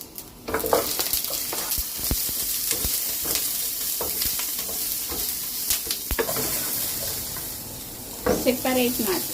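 Garlic and onion sautéing in a pan while cooking beef bones with star anise and mushrooms, a steady sizzle broken by scraping stirs and clinks of a utensil against the pan, with brief voices near the end.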